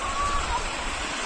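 A waterfall roars in a steady, full rush of falling water near Lonavla, heard up close with faint voices underneath.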